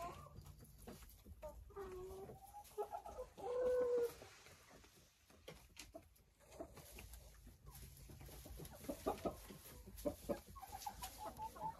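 Hens cluck and call inside a chicken coop, an irregular mix of short clucks and drawn-out squawks. Some calls ring loud and close while others sound softer, with brief gaps between bursts and no talking.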